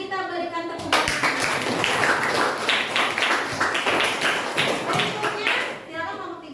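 A school class in Indonesia claps for a group that has just finished presenting, with rhythmic, fairly close clapping lasting several seconds and children's voices audible underneath.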